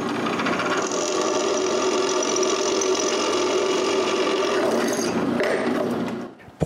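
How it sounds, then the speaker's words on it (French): A power drill boring holes through metal hinges for wooden chalet shutters, a steady loud whine running continuously before tapering off near the end, with no talking. "Je dois aussi percer des trous pour pouvoir les visser à mes volets."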